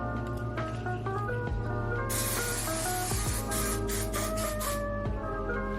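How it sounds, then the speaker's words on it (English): Hairspray misted onto curled hair, a close, steady hiss that holds for a few seconds amid faint background music, with no talking. "Now I'm gonna go ahead and put some hairspray in my hair."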